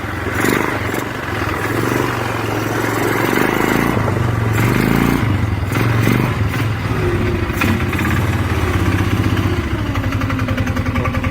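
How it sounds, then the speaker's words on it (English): A Polaris Sportsman 500 ATV engine idles steadily and loudly up close, with a rough, throbbing rumble and some mechanical clatter throughout. "Idling good, but you don't want it to idle."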